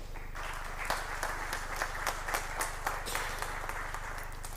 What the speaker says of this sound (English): Kindly let's give them a round of applause.